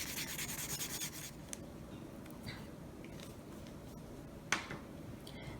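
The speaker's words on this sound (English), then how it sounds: "I'm going to color two sticks." Popsicle sticks being colored with a marker, producing soft rubbing strokes of felt tip on wood, close and quiet, with a few light taps between strokes and no voices.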